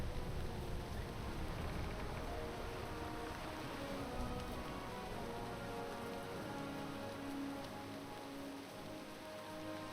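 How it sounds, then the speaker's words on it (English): Rain falling in the World of Warcraft game world, a steady, dense patter of drops on surfaces that holds evenly throughout with no talking. "We weren't expecting rain."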